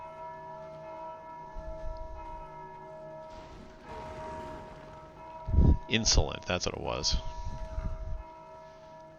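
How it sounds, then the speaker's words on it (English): A bell struck in the video game Dark Souls II rings out with clear metallic tones, several strikes overlapping and fading, heard under a man's speech and atop a steady droning game ambience. "Now it doesn't matter how many times I hit the bell."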